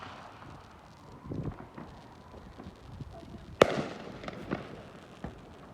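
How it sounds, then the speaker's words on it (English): Canada Day fireworks pop and crackle at a distance, with scattered thuds and one sharp, loud close bang near the middle, over a faint outdoor background. "We want fireworks."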